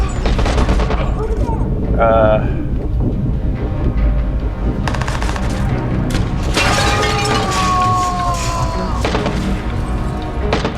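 Gunfire from the video game Watch Dogs, dense bursts of shots and booms with mechanical clatter through most of the stretch, while someone talks over the action.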